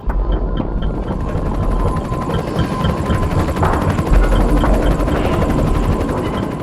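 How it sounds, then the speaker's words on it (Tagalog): A military helicopter gunship flies overhead in Marawi amid urban fighting, its rotor producing a loud, steady, continuous throbbing drone with low rumble and whine throughout, no voices. "Ano kaya ang idinudulot ng sunod-sunod ng pambobomba ng mga helicopter gunship ng militar?"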